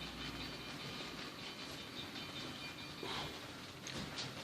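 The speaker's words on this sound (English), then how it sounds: "Train's on its way." A model freight train runs along a layout with a faint, steady rolling hum and soft rail noise, heard quietly and continuously without talk.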